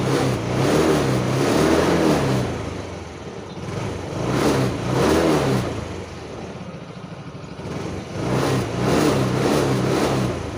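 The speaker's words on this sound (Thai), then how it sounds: "เดี๋ยวผมจะเร่งเครื่อง" A car engine revs up and falls back repeatedly, three or four throttle surges close by with idling between them, no voices, while battery charging voltage is measured.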